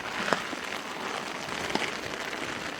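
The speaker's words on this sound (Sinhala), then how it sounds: "හොඳටම වහිනවා දැන්" Rain falls steadily outdoors at a campsite in Wawathanna, Sri Lanka, a close, even patter of drops striking surfaces, with occasional louder individual drips.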